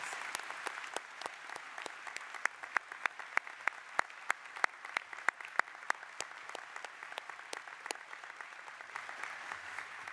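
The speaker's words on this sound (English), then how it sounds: "Please join me in giving them all a round of applause." An audience at the installation of Bates College's ninth president applauds staff and volunteers, many hands clapping in a sustained, fairly distant wash with sharp individual claps standing out.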